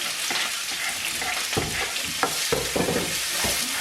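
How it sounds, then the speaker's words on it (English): Onion, sweet pepper and garlic sauté in a hot pan with a steady broadband sizzle, broken by several sharp scraping stirs of a utensil against the pan, close and alone with no talk. "I'm just gonna saute my onion, sweet pepper and garlic real quick"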